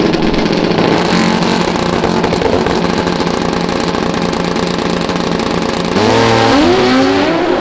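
Pro Modified drag motorcycles at a 2002 AMA Prostar championship event launching off the line, a loud sustained roar of racing engines that swells into a rising high-revving wail near the end.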